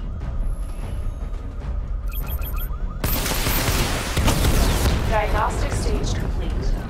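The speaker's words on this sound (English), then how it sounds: "Missile barrage level 2, ready." A missile barrage fires in the video game Batman: Arkham Knight with a sudden loud burst, then a sustained roar of launches and explosions after some beeping interface tones.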